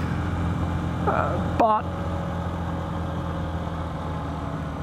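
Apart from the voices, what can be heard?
125cc motorcycle engine while riding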